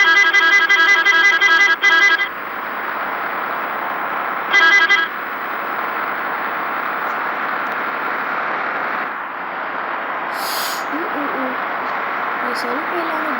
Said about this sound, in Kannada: ಬಸ್ ಹಾರ್ನ್ಗಳೇ ಕೊಟ್ಟವ್ರು